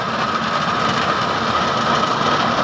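A tractor harvesting millet drones continuously with a dense mechanical roar and grinding hiss, steady and close, with no voices.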